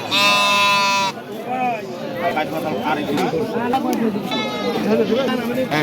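Goats at a crowded village livestock market in Natore, Bangladesh, one loud close bleat at the start, then fainter bleats mixed into constant chatter and bargaining voices.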